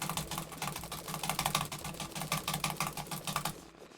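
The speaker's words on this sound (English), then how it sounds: "I am spam clicking right now." A computer mouse spam-clicked in a rapid, even, close-up stream of sharp clicks lasting several seconds before stopping abruptly.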